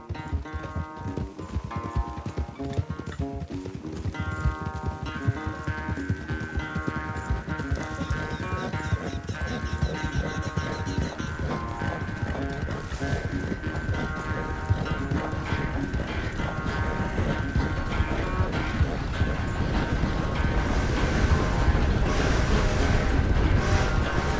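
A horse gallops hard in a race in Red Dead Redemption 2, its rapid hoofbeats pounding steadily and loudly throughout, with occasional whinnies and mechanical clatter mixed in.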